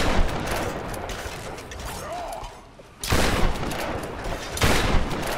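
Rapid bursts of gunfire in a Tomb Raider video game: dense rattling volleys for about three seconds, a short lull, then two more loud close bursts.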